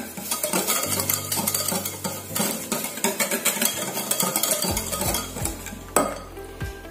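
Sugar is mixed into blended banana fritter batter, a spoon or whisk scraping and knocking against the bowl in uneven strokes over a low steady hum, close by, with no talking.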